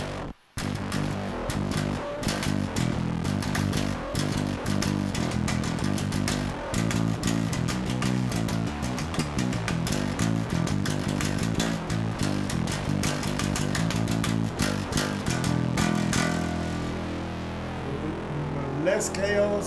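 Heavily distorted electric guitar runs through a Rabbit Hole FX effects pedal, giving a dense, biting fuzz that plays loudly and continuously for about twenty seconds and then fades toward the end.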